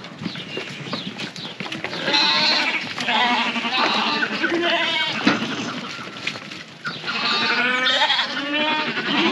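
Lambs on a livestock farm in Kocadağ village, Havran, bleat repeatedly and close by, several overlapping cries in quick succession, loud and insistent throughout.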